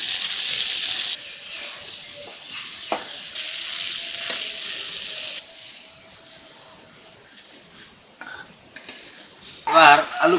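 Hilsa fish pieces drop into cooked-down spice paste in a pan, and a bright, steady frying hiss follows that settles and swells, with a few clinks of the utensil near the end.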